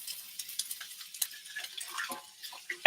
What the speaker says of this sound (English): But I need to stir it up first so that the onions don't burn.